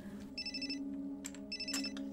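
A telephone rings in a coffeehouse where men play backgammon, its electronic trill sounding in two short bursts over a steady low background hum.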